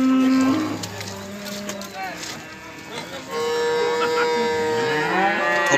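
Cattle low loudly at the Uchkun livestock market, several long drawn-out moos rising and falling over about six seconds, with market voices and bustle underneath.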